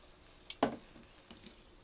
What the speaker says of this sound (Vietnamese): Để mình chiên cho cái bánh này nó chín á.